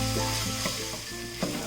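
Whole spices (cinnamon pieces, cloves and cardamom pods) sizzle in hot oil for a Kerala mutton roast, a steady close frying hiss with a couple of soft clinks or stirs, no voices.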